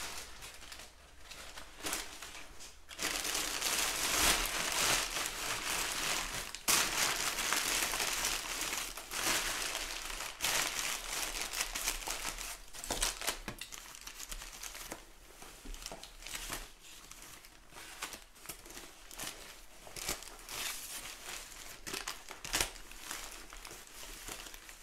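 Brown paper crumpled and crinkled while wrapping a head of cabbage: long stretches of dense, close rustling and crackling, easing to softer intermittent crinkles toward the end.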